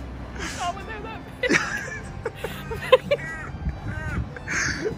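Several harsh crow caws ring out over outdoor chatter and a person talking in London, with passing traffic noise behind.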